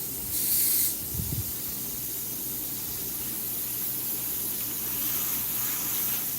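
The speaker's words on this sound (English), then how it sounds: "Just have fun messing around with the airbrush." An airbrush sprays paint while a rose is being painted, making a continuous close, even hiss, with a brief louder burst of air at the start and no talking.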